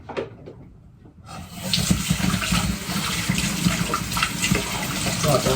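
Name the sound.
water running from a tap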